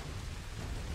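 Steady, dense rainfall in the Finding Bigfoot video game, a continuous loud hiss with a deep rumbling undertone, unbroken and without any voices.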